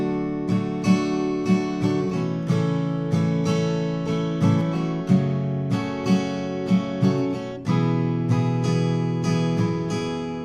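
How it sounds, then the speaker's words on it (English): An acoustic guitar strums open chords from a song's chorus, a steady rhythmic pattern of even strokes and chord changes, played alone at moderate volume with no talking. "we're going to be strumming and we're going to be using open chords."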